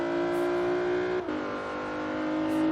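Sustained loud engine drone from a Lexus IS350 F Sport drag build in Forza Horizon 3, with a quick shift break midway before the revs resume and build, no voices.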